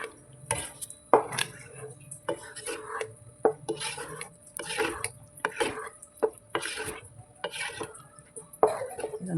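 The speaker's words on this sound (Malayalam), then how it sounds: "ഇത് നന്നായിട്ട് ഇതുപോലെ ഇട്ട് കൊടുത്തിട്ട് നന്നായിട്ട് നമുക്ക് മിക്സ് ചെയ്യാം" Kasuri methi stirred into paneer butter masala in a pan makes repeated spoon scrapes and clinks against metal at a steady rhythm, close and moderately loud, with a quiet sizzle between strokes.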